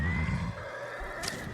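A horse whinnies in Ghost of Tsushima, a short, clear neigh with a falling pitch, followed by faint hoof clatter and game ambience, with no talking over it.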